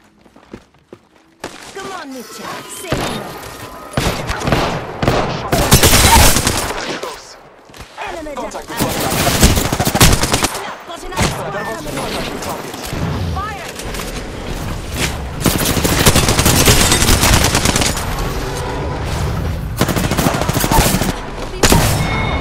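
Machine gun fire in a video game, loud bursts and rapid volleys repeating throughout, with footsteps and booms mixed in and a voice talking at times.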